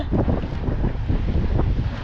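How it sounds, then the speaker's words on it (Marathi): Strong wind during a storm at the sea coast buffets the microphone in a heavy, continuous low roar, gusting unevenly throughout with no voices. "वारा बघा किती सुटलेला आहे"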